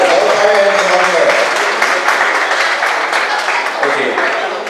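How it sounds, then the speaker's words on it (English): Dense, steady applause from a convention audience at Tag Con's cosplay stage segment, loud and continuous, with voices mixed into the crowd noise as it slowly tapers. "let's give applause to the duo that joined just now"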